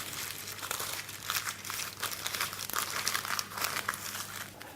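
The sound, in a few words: crumpling paper circle for tart baking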